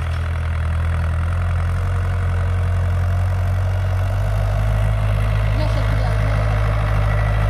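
A tractor engine idles close by in a rural yard, a loud steady low-pitched throb with a rhythmic knocking pulse that shifts slightly in pitch partway through, running alone without talk.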